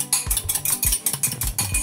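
Bread dough mixture beaten by hand in a bowl with a fork or whisk, a quick regular series of clinking, slapping strokes about four per second, close and loud, with no voices.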